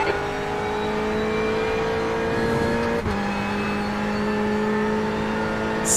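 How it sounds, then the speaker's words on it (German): Ferrari 488 GTE race car engine in a Le Mans racing game, droning loud and steady at high revs, with a brief dip midway like a gear change before the tone settles again. "there's a faster car approaching"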